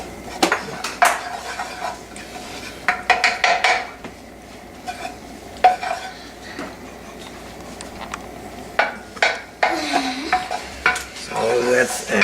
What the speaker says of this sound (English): the first thing I'm gonna do is add the ghee